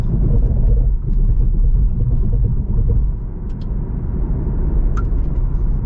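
Cadillac CT4-V four-cylinder engine accelerating, heard from inside the car as a loud, dense low rumble that swells and eases with road noise, and no talk.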